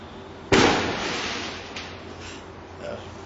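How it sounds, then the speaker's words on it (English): A single sharp firework blast at a wedding celebration cracks out nearby, its rumble fading over a second, followed by a fainter distant pop and a low, echoing tail. "explosion to support me. Several."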